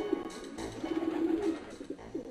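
A pigeon coos in the comedy adventure game Jazzpunk, a soft, repeated throaty warble rolling on steadily over a faint hiss of background ambience, with no talking.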